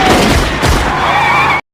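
Gunfire in a film shootout between gang members and police: a dense, loud volley of shots and booms with a harsh ringing tail, cut off abruptly.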